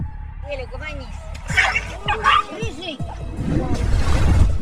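A dog confronting a cat gives several sharp barks and whimpering yips in quick bursts, close and loud, while a voice talks over much of it.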